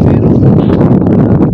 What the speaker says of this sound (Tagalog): masyadong malakas yung hangin